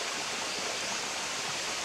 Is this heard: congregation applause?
no